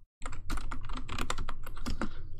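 A Kali Linux terminal command typed on a computer keyboard: a quick, close burst of crisp key clicks in an even, rapid rhythm lasting about two seconds.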